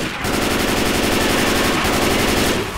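Rapid automatic gunfire rings out in Left 4 Dead 2, a loud, dense, unbroken burst of shots lasting several seconds with a brief stutter midway.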